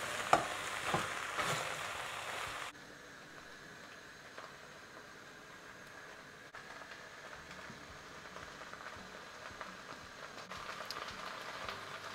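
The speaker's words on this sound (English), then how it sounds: "Just going to throw in some coriander and give it a really good mix" Chicken frying in a pan with coriander stirred through, a soft steady sizzle with light scraping and stirring, louder in the first few seconds and then settling to a quieter continuous crackle.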